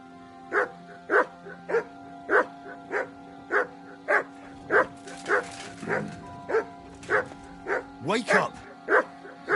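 Dog barking on command in the video game Kingdom Come: Deliverance II, a sharp bark repeated in a steady rhythm about every half second, close and clear, with a brief voice and some rustling midway.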